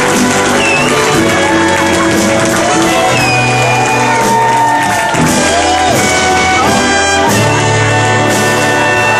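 A concert crowd greets a singer with loud, dense cheering, whoops and shouting, sustained throughout at full volume, with music or tones mixed into the roar.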